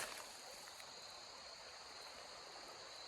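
A creek flows through Kentucky woods with a steady, broadband rush of water, even and unbroken, at a faint level with no voices.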